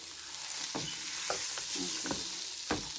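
A spoon stirs a desi-style chicken masala filling with cheese in a pan, producing soft sizzling under a few distinct scraping clinks against the pan, close and fairly quiet.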